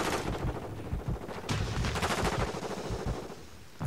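Rapid bursts of gunfire in the video game Modern Warfare 2 on PS5, loud and close, with several sharp volleys in quick succession across a few seconds.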